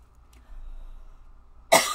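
A single sharp cough comes right at the end, after a near-silent stretch with faint low rumble.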